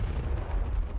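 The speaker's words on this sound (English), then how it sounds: "Explosion C4." C4 explosion effect from an Unreal Engine sound asset library, a dense low rumbling blast that fills the short clip without any voices.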